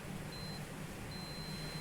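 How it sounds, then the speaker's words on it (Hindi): An electrical overload relay being checked sounds a faint, thin, high alarm beep in two long steady tones over a constant low hum. "ये अलार्म की भी आवाज़ दे रहा है"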